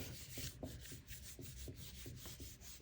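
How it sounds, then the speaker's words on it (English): A paper stencil print is rubbed hard on a Gelli plate: a steady, close, quiet scraping rub in regular strokes about twice a second, with no talking. "So make sure I'm rubbing pretty hard."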